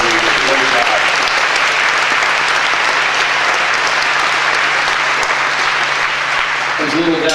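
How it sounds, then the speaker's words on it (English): An audience at a breakfast event applauds loudly and steadily for several seconds. A voice speaks briefly near the start and the end. "Let's give a round of applause for Jacoby."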